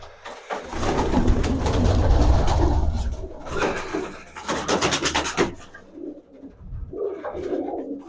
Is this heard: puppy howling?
no